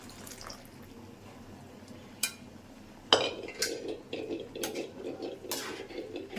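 Lentils (dal) get stirred in a cooking pot, with a sharp metallic clink followed by soft irregular scrapes and knocks of a spoon against the pot, quiet and close, without speech.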